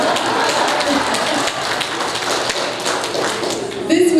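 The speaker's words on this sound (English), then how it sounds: "You can clap now." A church congregation at West Broad Seventh-day Adventist Church claps for a junior academy principal. The sharp claps run close and busy for several seconds under a murmur of voices, then swell slightly at the end.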